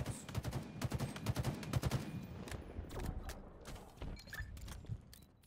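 Sniper rifle fire in a Halo Infinite multiplayer match: a rapid series of sharp, loud shots in bursts, followed by sparser scattered cracks, with no voices.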